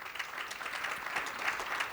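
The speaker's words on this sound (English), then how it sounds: "can you give a round of applause to my panelists?" Audience applause at a V4 Business 2024 conference panel on state export assistance: a steady, dense round of clapping from a seated crowd, sustained evenly for about two seconds.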